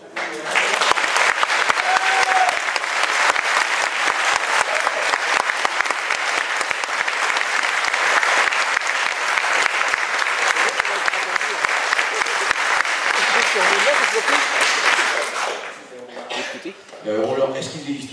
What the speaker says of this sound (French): Je demande un tonnerre d'applaudissements